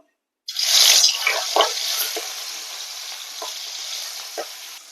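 Prawns dropping into hot oil set off a loud hiss and crackle that fades into a steady sizzle, with a few soft clinks from a spatula turning them in the pan.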